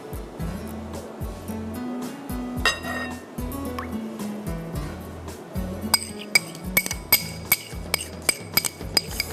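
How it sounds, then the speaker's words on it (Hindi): Local-brand chili sauce goes into a sandwich marinade with soy sauce, giving soft liquid pours and glassy clinks of a bowl or bottle that turn into a series of sharp, regular taps near the end, against a low background hum. "फिर हम इसमें डालेंगे चिली सॉस 5"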